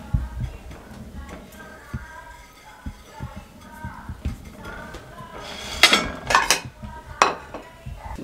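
Kulfi being lifted out of small steel cups, with clinks and knocks of metal vessels building into louder clattering near the end, close and without talk.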